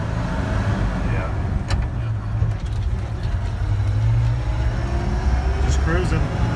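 A 1968 Chevrolet C10 pickup cruising along, its engine droning low and steady up close with a continuous rumble throughout.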